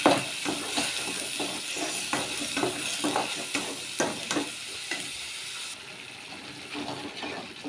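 Masala for ganike soppu egg saaru fries in a hot pan, a steady close sizzle and hiss broken by repeated scrapes of stirring throughout.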